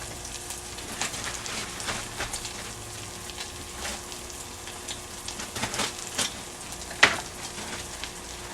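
A steady, soft sizzle of bacon and onions frying in a pan, with a faint crackle and a small sharp pop near the end.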